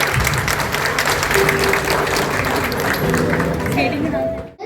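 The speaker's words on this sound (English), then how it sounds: "Give them a huge round of applause, everyone" Audience applause at a class 2 graduation day, following a performance act. Sustained crowd clapping runs throughout, dense and steady, then cuts off abruptly at the end.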